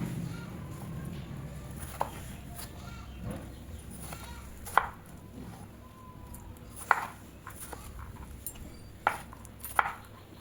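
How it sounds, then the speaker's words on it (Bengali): A knife cuts a watermelon into cubes on a board, making a handful of sharp, separate chops spaced a second or two apart. The chops sound quiet and close, over a low background hum. "তরমুজটাকে আমি ডোম করে কেটে নেব।"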